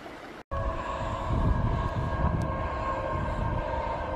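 A Class 70 freight locomotive rumbles steadily past over a level crossing, deep engine roar with a sustained droning tone, loud and close after a brief cut at the start.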